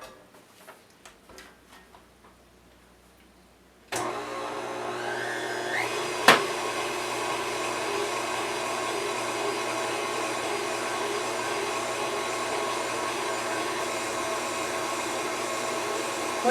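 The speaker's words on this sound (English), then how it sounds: "So I am going to grind these together." An electric meat grinder working round steak and ground pork together in a home kitchen, switching on with a sudden steady whirring drone that runs on without pause after a few quiet clicks.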